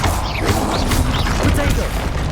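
Spell blasts from Bombarda in the Hogwarts Legacy video game, dense booming and crashing impacts layered with game music and clattering effects, loud and continuous, with spoken combat voices mixed in.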